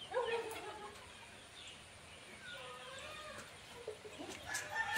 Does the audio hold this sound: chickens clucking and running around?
yes